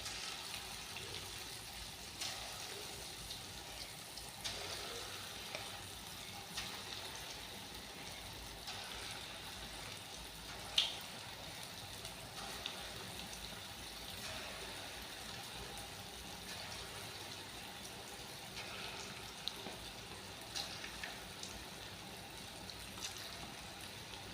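Small punugulu fritters made from leftover idli batter fry in hot oil with a soft, continuous crackle and scattered faint pops, heard quietly and alone.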